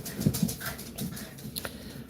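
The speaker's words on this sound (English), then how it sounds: "Oh God, the dogs are barking." Dogs barking and yipping indoors in a home setting, a few short bursts close by mixed with whimpering and panting, moderately loud with brief pauses.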